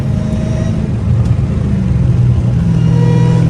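Dodge Challenger Hellcat Redeye cruising in fifth gear, a steady low engine rumble with a faint high supercharger whine riding over it, heard from inside the cabin.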